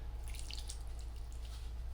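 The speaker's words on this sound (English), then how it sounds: "I'm going to add some water in." Water poured into a bucket of drywall ceiling mud compound gives a steady, soft splashing trickle with light dripping, continuous and close, under a low background hum.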